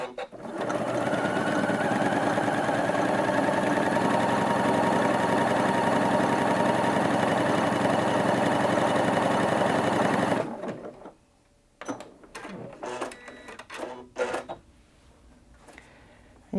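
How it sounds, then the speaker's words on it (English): A Janome Atelier 6 sewing machine runs a serpentine stitch using Accufeed, giving a loud, steady, continuous motor hum with needle rattle for about ten seconds before stopping abruptly, followed by quiet handling clicks. "let's go ahead and sew with the Accufeed"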